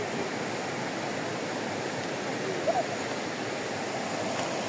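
The Yangwa river, a small stream used for swimming, rushes in a continuous, dense roar of flowing water that holds steady and loud throughout.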